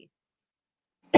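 A single short cough near the end, close and fairly loud, after a moment of silence.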